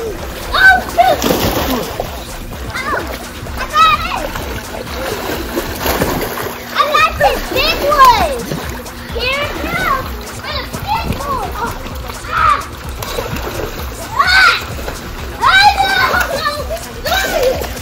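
Children splash and play in a backyard swimming pool on the 4th of July, with lively, irregular water slaps and sloshing throughout, mixed with excited kids' voices and shouts close by.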